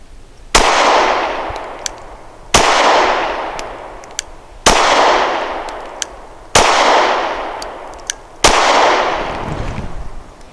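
Five sharp Glock 43 pistol shots fired at an even pace about two seconds apart, each loud crack trailing into a decaying outdoor echo, with faint distant pops from other shooters in between.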